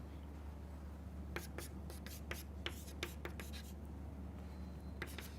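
Chalk or marker writing on a board during a mathematics lecture, a quick run of faint tapping strokes and scratches, with a short pause before a few more strokes, in a quiet room.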